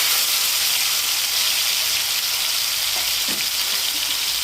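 Marinated chicken frying in hot oil on a stovetop: a steady, loud broadband sizzle fills the whole moment, with a couple of brief bubbling pops near the end and no voices.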